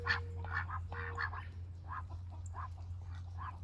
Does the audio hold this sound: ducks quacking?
yes